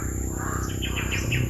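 Crows calling outdoors in a series of short caws, fairly faint and distant over a steady background of insect chirping.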